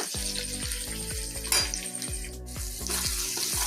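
Chopped onion, garlic and tomato fry in a pan with a steady crackling sizzle, punctuated by regular rhythmic clinks of a utensil against the pan throughout.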